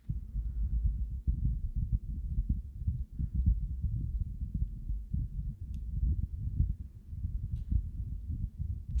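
An earthquake rumble effect built from a phone recording of an air conditioner, narrowed with a tight EQ band, plays as a low, throbbing, pulsing rumble that churns steadily and unevenly throughout, with no voices over it.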